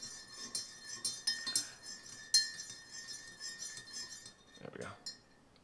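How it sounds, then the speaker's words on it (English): A spoon stirs coffee in a mug, giving a string of light, bright clinks and taps against the ceramic, close and fairly soft, irregular in rhythm, with a brief louder scrape near the end. "It's me stirring my coffee."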